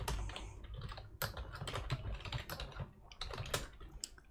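Quick bursts of typing on a computer keyboard as commands are entered in a terminal, crisp key clicks in irregular runs, close and fairly quiet, no speech.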